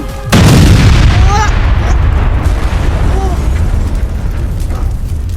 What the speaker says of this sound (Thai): ระเบิดเลย